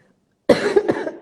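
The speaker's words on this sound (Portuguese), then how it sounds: "Nossa, gente, eu preciso parar de tossir." Cough from a woman during a live online talk: a few harsh, close bursts in quick succession after a brief silence, loud and alone without speech.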